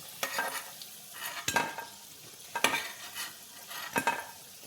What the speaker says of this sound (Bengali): পিঠেগুলো দেখো ভাজা হয়ে এসছে।